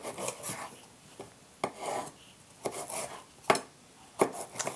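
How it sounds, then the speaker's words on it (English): Knife slicing fresh bell peppers into strips on a cutting board: a series of crisp, irregular cuts and scraping strokes, close and fairly loud, with no talking. "The peppers will also slice into strips as well."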